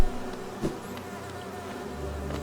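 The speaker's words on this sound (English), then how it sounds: "So again, a bunch of cutie patootie little bees." Bees buzz steadily in the Hive area of the video game Hollow Knight, a continuous droning hum that holds throughout, with a couple of brief louder swells.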